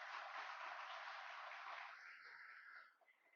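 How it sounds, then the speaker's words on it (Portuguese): A church congregation applauds in praise of Jesus, a steady, muffled wash of many hands clapping together that thins out and fades away after about three seconds. "Dá uma salva de palmas para Jesus."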